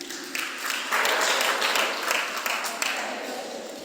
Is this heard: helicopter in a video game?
no